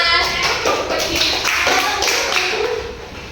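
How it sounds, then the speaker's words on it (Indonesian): A class of students claps in a classroom, with short bursts of hand claps and taps filling a few seconds at close range. "Tepuk tangan untuk kita semua."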